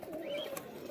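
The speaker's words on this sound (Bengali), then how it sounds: "এইখানে কিছু গেরেবাজ পায়রা দেখতে পাচ্ছি এই খাঁচাটার মধ্যে রয়েছে" A caged pigeon at a bird market gives one brief, faint coo, close by, over a low background murmur.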